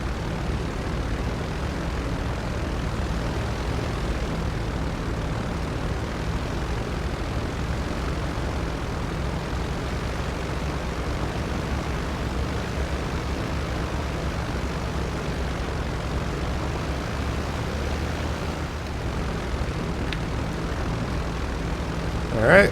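An MV-22B Osprey tiltrotor in GTA 5 drones steadily on its approach to land on an aircraft carrier, a constant loud low rumble of engines and rotors with no break throughout.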